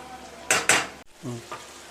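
Tomatoes for a mutton curry sizzle in a pan with two sharp stirring scrapes, followed by quieter frying and a softer clink of the spoon.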